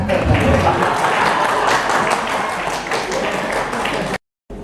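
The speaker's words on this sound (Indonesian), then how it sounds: "Tepuk tangan buat saya." An audience applauds after a children's poem reading at a book discussion, dense clapping lasting about four seconds before stopping abruptly.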